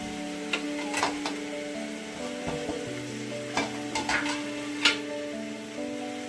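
Masala rice with tomato and coriander is stirred in a pot: a spoon scrapes the bottom in distinct strokes over a steady low sizzle, with no one talking.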